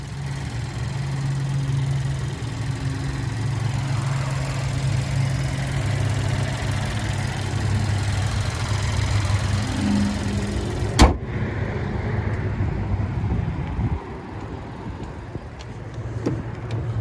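The 1.2-liter turbo engine of a 2020 Buick Encore GX ST idles with a steady low hum, close and even, until a sharp click cuts in and the sound drops away; no voices.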